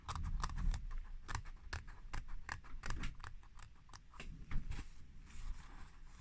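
Scissors snip through layered fabric during reverse appliqué, giving a close, crisp run of irregular cuts and clicks with no voices.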